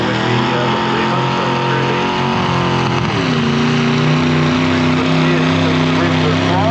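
A narrow-front tractor-pull tractor's engine drones loud and steady at a tractor-pull event, its pitch dipping once midway and then holding constant under the continuous roar.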